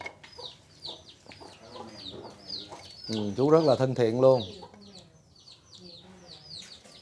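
Chickens cluck and chirp repeatedly in a home kitchen in Hue, Vietnam, close and moderately loud, while someone talks over them for a stretch in the middle.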